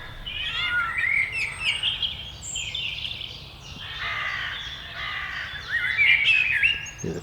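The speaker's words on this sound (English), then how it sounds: "the crows have woken up now" Crows caw repeatedly at dawn while songbirds chirp and twitter throughout, a busy chorus of mid-distance calls over a low steady background rumble in woodland.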